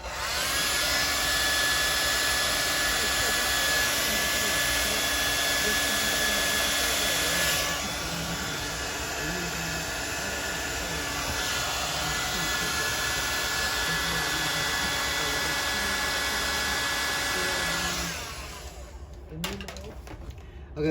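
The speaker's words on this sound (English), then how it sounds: "hit the hair dryer again. Okay, hair dryer again." Hair dryer blowing on a painted figure headsculpt during hair and beard trimming work, a loud steady whirring roar that changes pitch partway through and cuts off near the end.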